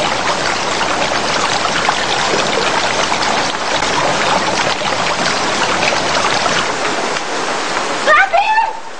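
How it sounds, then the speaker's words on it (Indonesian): Steady broadband rain pours down outdoors, a dense continuous hiss like water streaming, loud throughout, then cutting off near the end as a brief voice-like chirp appears. "Hujan, nanti kedinginan!"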